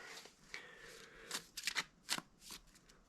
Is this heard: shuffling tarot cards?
yes